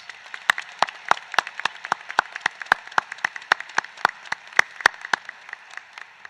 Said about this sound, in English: Let's give another round of applause to our student speakers.